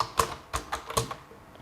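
A name is typed on a computer keyboard, giving about half a dozen crisp, irregularly spaced keystrokes that sound close and clear, with no talking.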